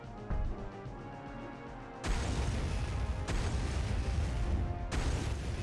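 A boss in Turok 2 shooting fire: three heavy, loud blasts, each a sudden crashing burst that trails off into a roaring wash, over a low rumbling game backdrop.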